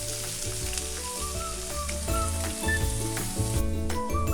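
Chopped onions and mustard seeds sautéing in oil in a pan over medium heat, giving a steady hissing sizzle with background music playing over it.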